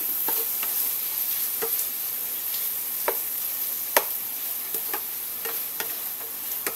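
Egg sizzles steadily in a frying pan while a utensil stirs it, giving sharp, irregular taps and scrapes against the pan over constant close frying hiss, with no one speaking.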